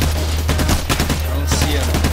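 Gunfire crackles in the PAYDAY: The Heist video game as a sniper opens up, heard as a dense, loud, continuous barrage of shots over a heavy low rumble of game noise.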